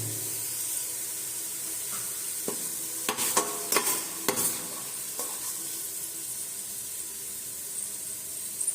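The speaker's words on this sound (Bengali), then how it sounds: "আমার পেঁয়াজের বেরেস্তাটি ভাজা হয়ে গেছে। এবার আমি এগুলোকে তুলে নেব।" Sliced onions deep-frying in hot oil for potato biryani, a steady close sizzle with a few sharp clinks and scrapes of a slotted spoon lifting them out midway.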